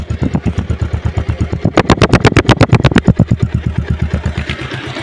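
A Bajaj Pulsar double-disc motorcycle idles close by, its engine thumping in a loud, steady, rapid pulse that briefly revs a little harder midway before settling back, with no talking.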